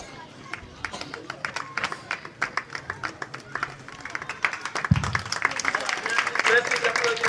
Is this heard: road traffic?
no